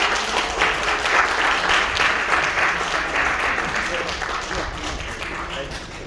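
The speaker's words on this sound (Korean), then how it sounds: "큰 박수 부탁드리겠습니다." Audience applause at an outdoor press conference at Gumi City Hall, where a Gyeongbuk education superintendent candidate announces his run; a dense, steady wash of clapping lasts the whole span, close and fairly loud.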